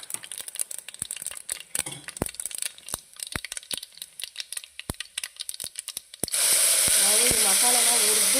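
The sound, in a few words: ground masala added to sizzling tempering in a pan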